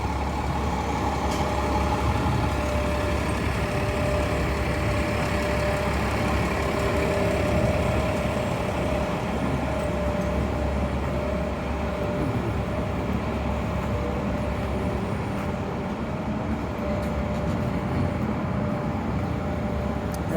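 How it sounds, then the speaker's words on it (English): Heavy traffic on a downtown Halifax street near the Scotia Square transit hub, with a steady, loud low engine rumble and idling drone of city buses close by, continuous with no talking. "It's going to get noisy right here because of the buses"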